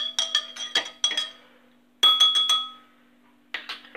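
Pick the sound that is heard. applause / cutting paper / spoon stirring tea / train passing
spoon stirring tea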